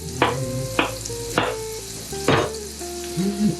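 Cubed squash hits a hot pan and sizzles under a steady frying hiss, broken by several sharp scraping or clattering stirs at uneven intervals.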